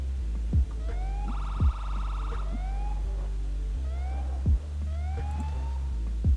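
Police siren whoops in GTA 5 rise and fall in short repeated bursts over a constant low engine hum, with a few thumping impacts, synthetic game audio.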